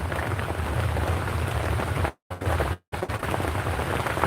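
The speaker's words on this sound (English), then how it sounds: "It's raining right now" Steady rain falls outdoors during a stormy spell, a continuous hiss with low rumble that cuts out briefly twice before resuming, moderately loud with no voices.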